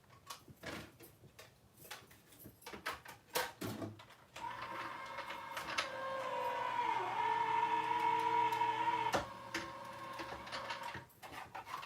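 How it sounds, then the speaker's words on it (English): Electric paper cutting machine running card stock through after a few handling clicks and taps, a steady whirring motor hum with a brief pitch dip, faint and close. "I'm going to run this through my machine real quick."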